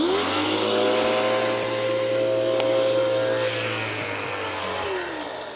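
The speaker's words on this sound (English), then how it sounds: "So neat thing about this pressure washer, right? So no gas motor to start up, none of that." An electric pressure washer fed with rainwater hums and whines loudly and steadily, its motor pitch holding level before sagging slightly near the end, with no talking over it.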